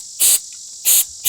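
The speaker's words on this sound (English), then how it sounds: "I'm gonna try to clean this with this mass airflow sensor cleaner" Mass airflow sensor cleaner is sprayed onto the sensor from a 2006-2010 Honda Civic Si in short, sharp, close hissing bursts, two full blasts with a third just starting, separated by quiet gaps.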